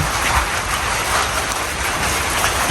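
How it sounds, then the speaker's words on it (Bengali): A light drizzle falls as the sky darkens, a steady, even hiss of fine rain that carries on without pause at moderate level, with no voices. "দেখো গুড়ি গুড়ি বৃষ্টি পড়ে, দেখছো বৃষ্টি পড়ে"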